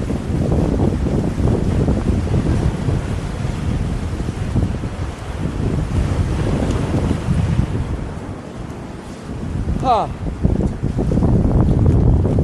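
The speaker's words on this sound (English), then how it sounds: "It's a bit windy today." Steady wind buffets the microphone with a constant low rumble throughout, at Tunnels Rocks in Ilfracombe, North Devon, with a brief higher-pitched tonal sound near the end.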